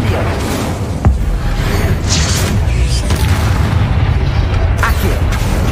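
Fiery spell blasts from Confringo and Incendio in Hogwarts Legacy: a sharp booming burst near the one-second mark, then whooshing flares and crackling energy over a dense, loud bed of combat rumble and game effects.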